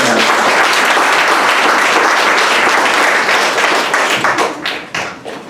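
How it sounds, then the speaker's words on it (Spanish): An audience at a conversation event on the Amazon Synod gives a doctor a warm round of applause, dense and loud throughout before it thins and tapers off near the end. "démosle un caluroso aplauso a la doctora"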